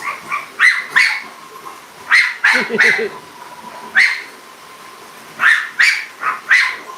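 Several dogs on a late-night treadmill session let out short sharp barks in bursts, some clustered and overlapping, against a faint steady whir and low hum.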